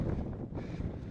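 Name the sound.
strong wind on a mountain pass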